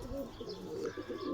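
Pigeons coo softly and repeatedly nearby, low throaty rolling calls with faint chirps above, in a quiet outdoor setting with no talk.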